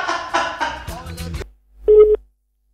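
A telephone line tone sounds during a call to PASOK party headquarters, heard as a single clear tone burst after some speech, then silence.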